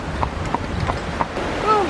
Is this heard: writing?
no